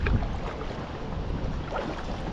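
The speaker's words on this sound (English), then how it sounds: "Wow, that wind does pick up." Wind blows across a river during a kayak outing, a steady rushing buffet over the microphone with faint water sounds beneath.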